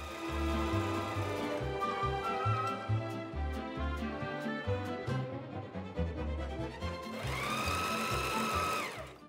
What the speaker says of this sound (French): Épinglez et piquez à 1 cm du bord du zip.